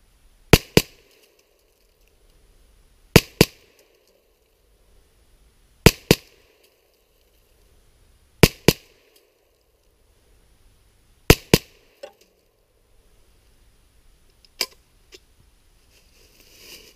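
Mossberg 702 rifle fitted with a scope fires a series of sharp shots, mostly in quick close pairs spaced a few seconds apart, loud and crisp with quiet gaps between.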